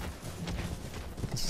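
Galloping horse in the video game Elden Ring: Shadow of the Erdtree, a short run of quick, moderately loud hoofbeats close by.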